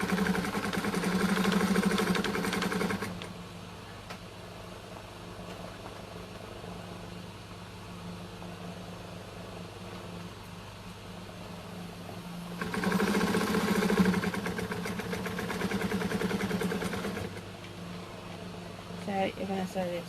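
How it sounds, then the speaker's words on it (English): A sewing machine stitches around a fabric mat, its motor running in a steady whirring hum with two louder bursts of faster stitching, heard up close under a continuous low background drone. "So you're going to sew this all the way around, pulling it around the corners as you go."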